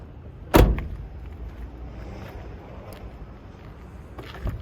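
Side rails of an in-floor ramp on a 2012 VPG MV-1 DX mobility van with power side entry flip up, giving one sharp, close mechanical clack followed by quiet rumble and a faint later tap, no talking.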